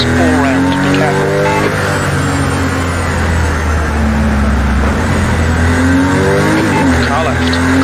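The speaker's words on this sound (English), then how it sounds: "car approaching" A race car closes in during a Porsche Cayman European Cup race in Project CARS 2, its engine droning loud and steady with rising and falling pitch as it nears, under a constant roar of the player's own car and radio talk.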